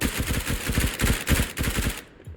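Rapid automatic gunfire in the Roblox Shrimp Game video game, a dense loud burst of repeated shots lasting about two seconds before cutting off abruptly.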